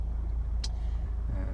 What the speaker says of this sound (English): So inside the car now, engine's running as it has been all the way through.